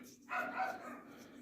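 A single short dog bark in the distance, faint, heard outdoors during metal detecting.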